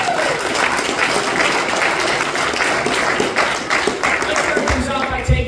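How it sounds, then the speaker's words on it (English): Loud, dense audience applause fills a boxing press conference for X Series 19 in Qatar, a steady wash of many clapping hands with a few louder claps near the end. "That was an applause break."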